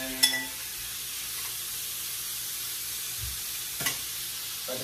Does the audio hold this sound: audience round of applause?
no